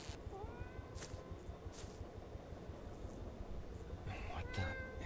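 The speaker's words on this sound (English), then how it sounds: "Is this Bob's cat?" A cat meows a few times in the game Greyhill Incident, short, thin cries spread across a steady outdoor ambience with a low rumbling hum underneath.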